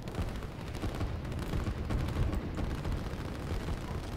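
Artillery bombards infantry in the strategy game Line War: a dense, continuous barrage of overlapping booms and rapid gunfire-like pops, loud and unbroken throughout.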